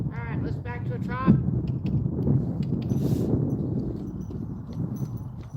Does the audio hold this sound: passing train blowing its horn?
no